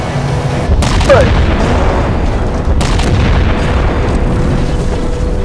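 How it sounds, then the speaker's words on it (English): Explosions in the video game Halo 4 boom loudly, two heavy blasts spaced a couple of seconds apart over dense game noise and rumbling, with voices talking underneath. "Guys, we got explosions."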